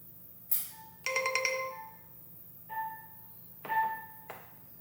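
A SimpliSafe water sensor alarm sounds its alert through a phone, bright electronic ringtone chimes in several separate bursts, one longer ringing phrase followed by two shorter tones, clear and close with no talk.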